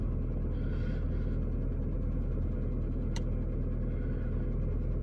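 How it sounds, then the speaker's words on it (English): High-mileage 2007 Toyota Prius engine idling steadily around 1200 rpm, a low, even hum with faint rhythmic pulsing and one brief click, heard alone and fairly quiet. "the engine's running a lot smoother around 1200."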